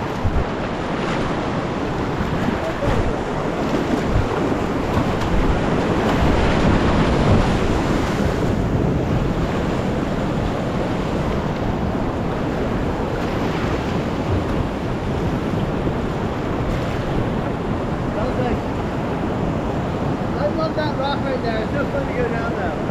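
Whitewater rapids on the Lower Youghiogheny River in Pennsylvania, at about 1.85 ft, rush in a loud, continuous roar of churning water close by, with wind buffeting the microphone and a voice faintly heard.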